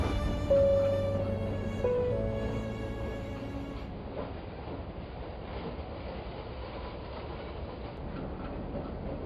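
Train rolling along rails at night, a steady continuous rumble with faint rhythmic clatter, briefly overlaid at the start by tonal music before the rail noise carries on alone.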